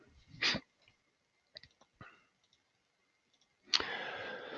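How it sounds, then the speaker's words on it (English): Computer mouse clicks while working in statistics software, a few faint, sharp clicks scattered in quiet close by, with a soft breathy noise near the start and a hiss rising at the end. "Click change. Click OK."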